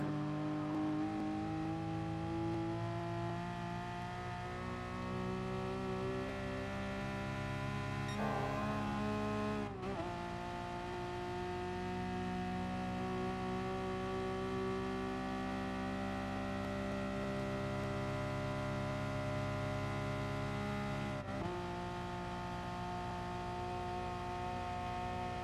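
Race car engine in Gran Turismo Sport on the Nürburgring Nordschleife, a loud sustained roar that climbs in pitch as it accelerates, with two brief dips where gears shift, and no voices.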